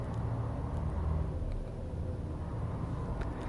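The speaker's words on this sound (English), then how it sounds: "Sorry about that truck noise." A truck passes outside, a low, dense rumble that fills the whole moment at a steady level, distant but heavy.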